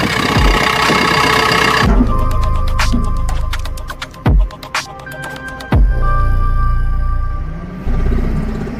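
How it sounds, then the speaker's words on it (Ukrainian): A 2017 JCB JS 145 crawler excavator with an Ecomax engine idles with a steady low mechanical drone, close and loud, broken by a few sharp clanks and knocks midway. "Дивіться, послухаємо, як, працює двигун. Двигун, до речі, екомакс."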